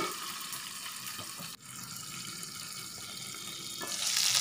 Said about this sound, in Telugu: చూసారు కదా, ఇవి కూడా ఫ్రై అయిపోయాయన్నమాట.